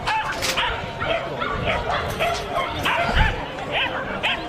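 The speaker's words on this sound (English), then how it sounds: "the dog definitely making its opinion known" A small dog at an international agility competition barks and yips repeatedly in quick bursts, close and loud, over a noisy arena background with a commentator talking.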